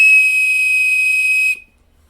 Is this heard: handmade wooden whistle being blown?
yes